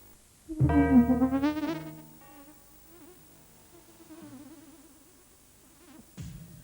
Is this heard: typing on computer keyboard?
no